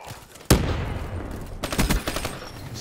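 ICR rifle gunfire in Black Ops 3, with a sharp shot that rings out and decays, then a short cluster of rapid close shots, loud and with almost no talk.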